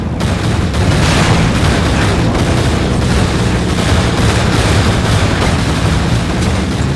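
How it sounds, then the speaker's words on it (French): Gunfire during an ambush in the video game Pursuit Force, a loud, dense and continuous barrage of shots and booms that fills the whole stretch without letup. "C'est le moment de jouer du flingue. Tirez là."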